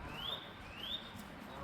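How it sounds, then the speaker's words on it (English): Nuthatch whistling: two short, rising thin whistles spaced apart, faint and distant over soft outdoor background noise. "I can hear a nuthatch whistling."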